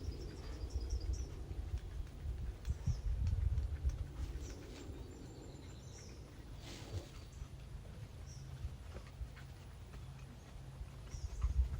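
Horse hooves clip-clopping in a steady rhythm during riding training, soft and fairly distant, with faint insect and bird sounds in the background.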